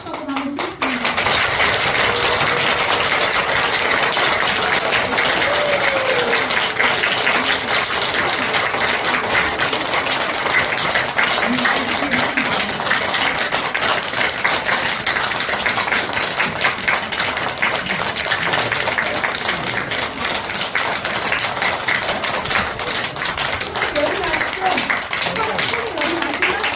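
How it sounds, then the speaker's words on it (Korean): Buddhist temple audience clapping together during a lecture on tea and health, a dense sustained round of applause lasting many seconds, loud and close in an indoor hall, with some voices mixed in. "우리 여기 같이 와 계신 도반이들이 박수를 치고 싶다고 한번 치겠습니다"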